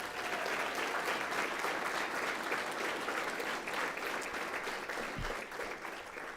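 Sustained applause from an audience at a school board meeting honoring a high school mariachi group, dense steady clapping that fills the room for several seconds with a faint crowd murmur underneath.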